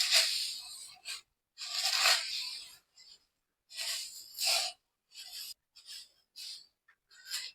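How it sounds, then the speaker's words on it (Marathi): Sabudana poha chivda stirred by hand, dry flakes and fried bits rasping and rustling in bursts with short pauses between, fairly close. "हे व्यवस्थित मिक्स करून घेऊया."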